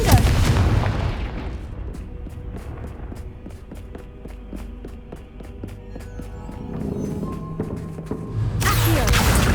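A Confringo spell explosion in Hogwarts Legacy on PS5 Pro, a heavy booming blast that opens the clip, then rapid clicking and thudding game effects, and a second loud burst swelling at the end, no voices.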